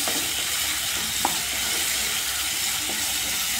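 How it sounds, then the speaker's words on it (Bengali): Spiced masala sautéing in a pan for a Bengali dal and chicken pakora meal, a steady soft sizzle with faint scraping stirs, close and continuous without talk. "এদিকে আমার কষানো হচ্ছে মশলাটা"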